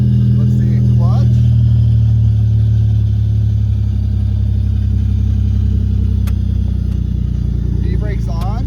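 A Pontiac Fiero with a swapped-in 3.8 V6 idles while warming up in a storage unit. The engine makes a steady, close, low rumble throughout, with faint clicks over it.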